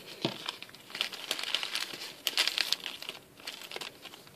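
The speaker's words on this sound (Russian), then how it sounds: "Давайте я, наверное, высыплю все-таки, чтобы пакет не скрывал всей красоты." Beads poured out of a plastic bag, the thin plastic crinkling and rustling in quick bursts with small beads and sequins pattering, close and fairly quiet with no talk.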